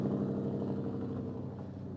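A Vantage sports car pulls away at an outdoor car show, its low engine rumble fading slightly as it moves off.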